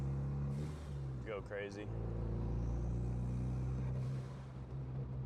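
A 2014 Ford Focus ST cruising on the highway with the windows partly up, giving a steady low engine and road drone throughout, with a brief burst of speech and a short rise in revs.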